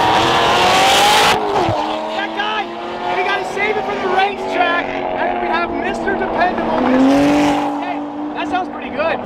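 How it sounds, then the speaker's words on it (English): A race car engine revs and accelerates loudly with rising and falling harmonic pitches. A brief tire squeal cuts in, and people talk over the engine noise. "That car sounds so good."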